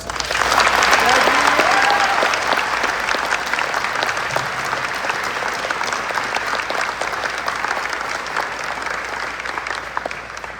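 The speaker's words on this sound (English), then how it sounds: "Round of applause for honors." An audience at a school awards ceremony applauds honors students, a loud, dense burst of clapping that is strongest at the start and gradually thins. A voice is heard briefly near the beginning.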